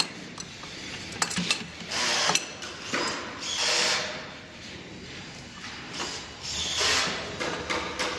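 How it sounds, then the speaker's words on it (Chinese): Nuts being tightened on the front wheel of a Teverun Tetra electric scooter, close metallic scraping and rubbing with tool clicks in uneven bursts, moderately loud. "把这个螺母要这个位置要拧紧，这边反面要拧紧"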